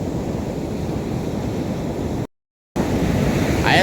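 Ocean waves on a beach roar as a loud, continuous wash of surf and wind buffeting the microphone, briefly cutting to silence before the rushing surf resumes.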